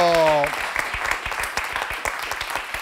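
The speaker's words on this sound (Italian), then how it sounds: "Prosegua l'applauso" Applause from a studio audience on an Italian television talk show, scattered clapping continuing after a brief voice at the start.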